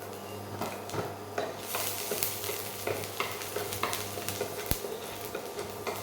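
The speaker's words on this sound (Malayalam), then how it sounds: "ഓയിലൊന്ന് ചൂടായി വന്നിട്ട് അതിലേക്ക് നമുക്ക് നല്ല ഫൈനായിട്ട് ചോപ്പ് ചെയ്ത ഗാർലിക്കാണ്, ഒരു 5 അല്ലി വെളുത്തുള്ളി ഉണ്ട്" Five cloves of finely chopped garlic fry in hot oil over a medium flame for fried tofu, with a continuous close sizzle, light crackles and occasional scraping stirs against the pan.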